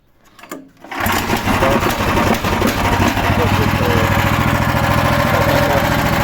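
After a brief pause with a few clicks, the 22 hp engine of a small tractor, choke closed, sputters into life and settles into a loud, steady, chattering idle.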